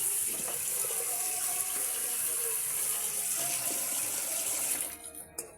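Water runs steadily from a tap in a constant close rush, then cuts off near the end.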